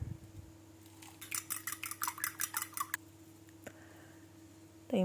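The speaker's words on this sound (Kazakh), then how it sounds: "Бөлек ыдысқа жұмыртқаларды жарып алып, араластырамыз" Rapid rhythmic clicking of a whisk beating eggs in a bowl for a couple of seconds, then a single tap and quiet hum.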